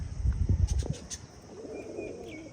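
A pigeon coos in a few low, throaty pulses close by, then fades into quiet outdoor background noise.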